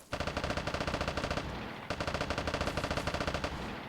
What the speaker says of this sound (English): 3 different kinds of guns going off